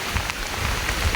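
Heavy rain pours steadily over rice paddies in Laos during the wet season, a continuous dense hiss of drops with no pauses and no voices.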